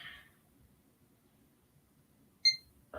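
An old computer pulled from a bin beeps once as it powers on, a short clear tone sitting alone over a faint low hum in a quiet room.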